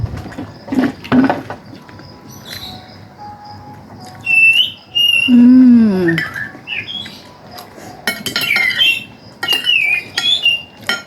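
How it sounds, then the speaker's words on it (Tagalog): Several birds squawk and chirp in bursts, with shrill whistling calls and a lower squawk, fairly close and lively. "ang ingay din ng ibon"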